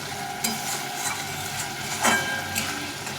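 Potatoes sautéing in hot oil in a pan give a steady close sizzle, with a few louder scrapes and clatters as they are stirred.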